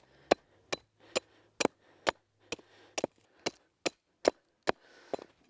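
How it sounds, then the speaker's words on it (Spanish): Sharp hammer blows driving nails into a homemade wooden ladder for olive picking, about a dozen close, loud strikes at a fairly steady pace with brief gaps and no talk. "y ahora vamos a proceder a clavar"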